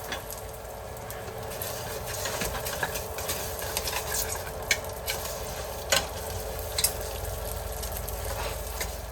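Rice goes into a pot of Cambodian seafood porridge with noodles, a steady close sizzle and bubbling with stirring scrapes and a few sharp clacks, no talking.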